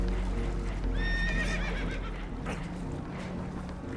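Spooked horses whinny in Red Dead Redemption 2 aboard a boat taking on water, a shrill quavering neigh rising over a loud rushing, churning background with scattered knocks.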